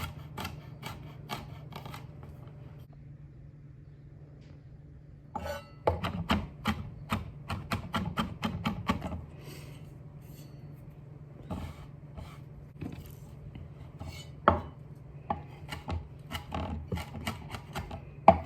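A knife chops garlic and thyme on a board in a series of sharp, close taps, sparse at first, then a quick dense burst in the middle and scattered strokes afterward, with no talk.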